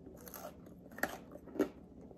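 Crunchy store-bought pizza being bitten, with two sharp crunching bites about half a second apart standing out over faint chewing, close and fairly quiet.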